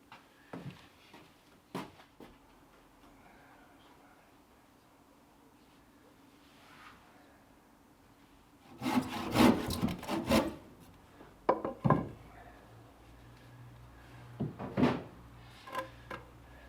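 Hand saw cutting through wood timber in a home workshop, with bursts of rasping strokes in the second half after a quiet, low-level start.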